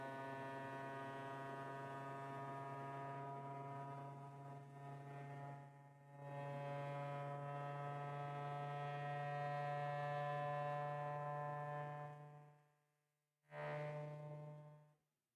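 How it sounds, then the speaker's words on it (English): A Qidi Plus4 3D printer runs its loud input shaper calibration, a steady, strongly tonal droning buzz that holds for about twelve seconds, dips briefly midway, cuts out, then returns in a short final burst. "This is the largest or loudest input shaper calibration that I've heard from any printer before."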